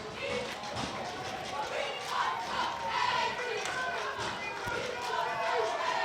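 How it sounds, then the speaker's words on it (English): Crowd noise at a high school football game, Winton Woods vs Anderson, swelling with cheers and shouts as fans get fired up, a steady loud roar with a few sharp thumps and an announcer's voice over it. "Crowd starting to get amped up into this game."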